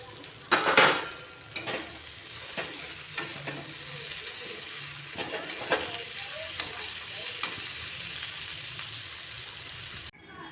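Raw tomato goes into a pan of frying flat beans in a mustard-based dish. A steady sizzle runs throughout, and repeated sharp spatula scrapes and knocks against the pan come in an uneven rhythm, loudest at the start.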